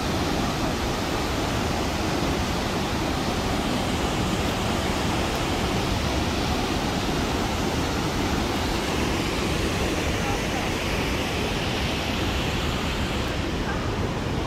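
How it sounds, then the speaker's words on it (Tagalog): A waterfall below the Lynn Canyon Suspension Bridge in Vancouver roars in a steady, dense rush of falling water that stays loud and unbroken throughout, with no voices over it. "May falls doon."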